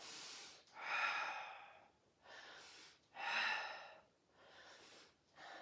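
Forceful exhaled breaths during a resistance exercise, two long strong blows out alternating with quieter breaths, close and alone with no talk.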